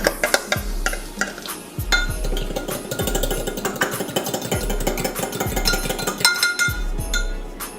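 Pasta is stirred in a pan with a spoon, giving repeated clinks and scrapes against the metal in an uneven rhythm, while a soft sizzle and low hum run steadily underneath.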